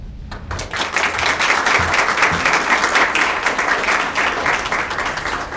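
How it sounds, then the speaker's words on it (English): An audience at a regional poetry recitation finals breaks into sustained, dense applause that starts abruptly and carries on loud and even for several seconds. "How about we give these students a big round of applause?"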